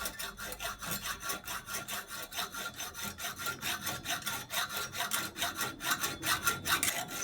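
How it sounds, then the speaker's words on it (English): Hacksaw cutting through a corroded aluminium seatpost stuck in a steel bike frame, steady rhythmic back-and-forth rasping strokes at close range, about three strokes per second, with no talking. "maybe 5 inches of metal in there to try and saw through"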